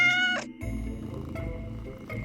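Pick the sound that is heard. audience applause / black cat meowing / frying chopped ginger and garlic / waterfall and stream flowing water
black cat meowing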